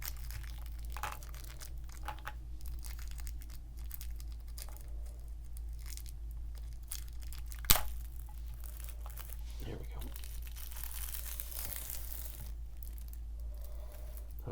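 Crinkly plastic wrapper of a Gummy Choco candy package being opened gently up close, soft intermittent crackles with one sharp snap in the middle, and a brief spoken remark over a low steady hum.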